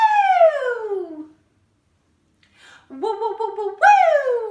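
A group of children imitate sirens with their voices, sweeping high-pitched wails that slide down, then rise again after a brief pause, loud and close.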